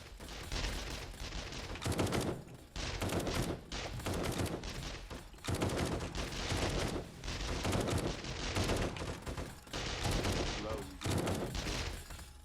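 A turret fires during horde night in the video game 7 Days to Die, a steady, rapid stream of shots in long bursts with short breaks, fairly loud and continuous.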